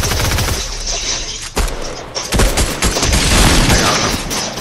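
Loud, dense gunfire from a video game shooter, rapid bursts and booming shots crowding together with brief gaps, no talk audible.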